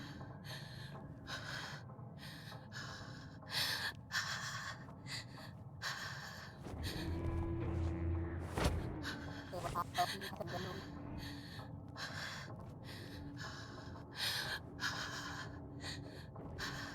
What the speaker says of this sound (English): Stop breathing so loudly, girl.